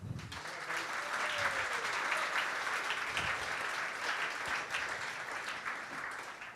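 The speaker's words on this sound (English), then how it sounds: "A warm round of applause for Keith." A crowd claps steadily in sustained applause, a dense even patter of many hands lasting several seconds.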